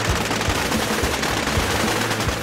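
Sustained machine gun fire at an outdoor machine gun show in the Arizona desert, loud and close, with rapid overlapping bursts forming a continuous dense roar throughout.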